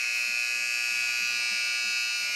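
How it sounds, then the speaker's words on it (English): A steady, high electronic buzzer tone ends a hockey period, holding continuously at moderate volume at an ice rink, with faint background murmur beneath it. "the buzzer sounds."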